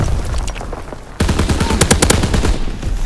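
Rapid automatic gunfire in the World War II shooter Call of Duty WWII, loud close bursts of shots following a quieter stretch of distant battle noise.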